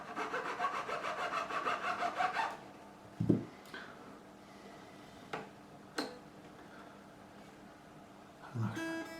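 A file is drawn through a guitar nut slot on a Squier Classic Vibe Telecaster in quick, even rasping strokes for a couple of seconds, followed by a few sharp taps and knocks in a quiet room.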